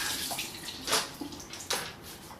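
Tap water runs and splashes to wet a Sonia Kashuk beauty sponge, a steady close rush with a couple of louder surges, no talking.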